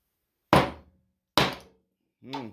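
A hammer strikes steel resting on a wooden bench, two sharp, dull thuds about a second apart, each dying away quickly, followed by a short spoken remark.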